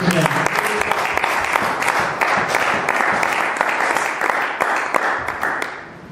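Congregation in a church applauding to acclaim the Lord, steady dense clapping throughout that tapers off at the end, with voices mixed in the crowd.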